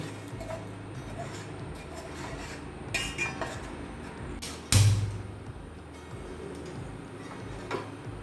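A utensil scrapes and clinks against a cooking pot while a tamarind mixture is stirred, with a steady ticking rhythm of metal taps, a few sharper clanks and one loud knock partway through.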